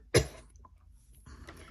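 One sharp, close cough bursts out near the start, followed by quiet and then a faint throat-clearing rasp.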